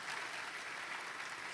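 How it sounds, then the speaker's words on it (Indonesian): A church congregation applauds loudly during a sermon, a dense, steady wash of many hands clapping throughout the short stretch with no voices on top. "tepuk tangan yang keras"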